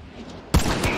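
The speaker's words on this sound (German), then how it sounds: "da kam ein Schuss" A single sharp gunshot in the video game Hunt: Showdown, cracking out about halfway through over a dull in-game ambience and followed by a rumbling tail.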